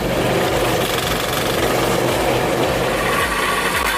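A firewood processing machine runs steadily nearby, its rough mechanical chugging and clatter constant throughout with no voices.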